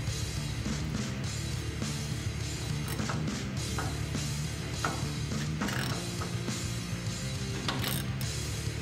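A ratchet wrench clicks steadily while tightening a hub nut on a Ford Raptor full-floater rear end, a dense, continuous run of close metallic ratcheting with short pauses and no speech.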